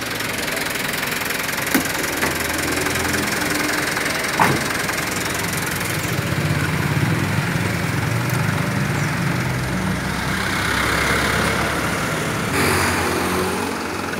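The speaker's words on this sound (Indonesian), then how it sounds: "Mitsubishi Colt Diesel 4000 cc PS110" A 2011 Mitsubishi Colt Diesel truck, a Fuso Canter with a 4000 cc 110 PS engine and an HHO fuel saver fitted, runs steadily nearby with an even, knocking diesel drone and no talk.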